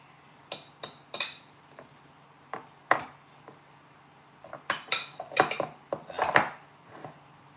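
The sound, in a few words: mixing barbecue sauce in a bowl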